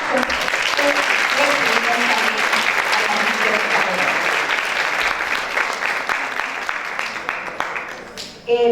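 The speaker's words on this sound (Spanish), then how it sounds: "Despedimos a la mesa principal con un aplauso." Loud, sustained applause from an audience sending off the head table at a book presentation, dense clapping up close that slowly thins toward the end, with voices faintly underneath.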